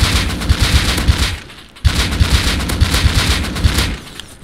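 Rapid automatic AK rifle spray in the survival game Rust, a loud, close burst of evenly spaced shots that breaks off briefly, then resumes in a second sustained string.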